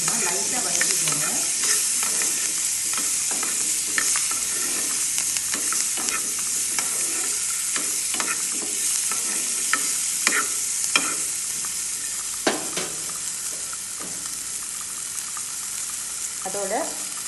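Onion sautéing in a pan for gotu kola chutney, a continuous sizzle broken by repeated stirring clinks and scrapes of a spoon against the pan throughout.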